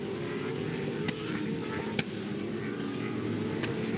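An FPR Ford Falcon V8 Supercar races through turn 6 at Winton Raceway, a steady engine drone heard at a distance, with a couple of faint sharp ticks.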